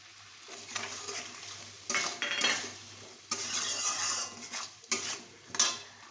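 Mustard and ginger paste goes into a pan for a bata fish curry and is stirred: repeated metal spoon scrapes and clinks against the pan in uneven bursts, with a faint sizzle beneath.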